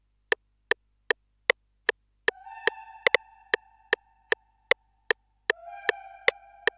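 A vocal one-shot sample from the XY nothing kit sounds twice as a brief, processed, tonal vocal stab, EQ'd with lows cut. It plays over a steady metronome-like tick pattern, with no talking.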